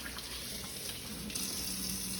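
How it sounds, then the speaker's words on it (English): Hot water runs steadily from a kitchen or bathroom tap for hand washing, a continuous close stream that brightens and strengthens partway through as the flow increases. "Turn on the water, put it on hot, apply some soap."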